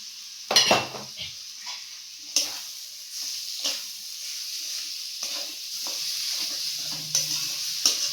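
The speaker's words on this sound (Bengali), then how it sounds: "টমেটোটা দিয়ে দিলাম, মাছটাও দিয়ে দিচ্ছি, এর সাথে একটু ভালো করে কষিয়ে নেবো" Tomato and dried fish being sautéed in a pan for a grass pea dal and dried fish dish, with scraping stirs and a soft sizzle, broken by sharp clatters of the spoon against the pan. No one speaks.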